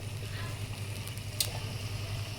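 Peas sizzle steadily in a hot cooking pot, a close, even hiss with a low hum underneath and one brief sharp crackle partway through.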